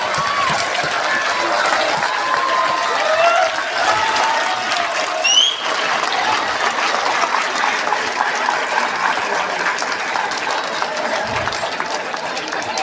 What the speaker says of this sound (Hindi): आप लोग ताली बजाते हुए स्टैंडिंग ओवेशन दीजिए।